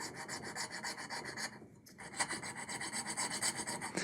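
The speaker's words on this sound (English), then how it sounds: "Just come in with your saw and just start cutting." A Stew Mac slotting saw cuts a bridge pin slot on a guitar, giving a fast, even rasping rhythm of short back-and-forth strokes close up, with one brief pause midway and no talking.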